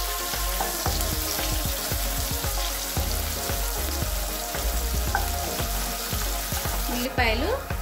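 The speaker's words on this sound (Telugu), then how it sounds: "తర్వాత కట్ చేసి పెట్టుకున్న ఉల్లిపాయలు వేసేసి కాసేపు ఫ్రై చేసుకోవాలి." Chopped onions frying in a pan for a Telugu-style okra tamarind stew (bendakaya pulusu), a steady close sizzle and crackle with occasional stirring scrapes throughout.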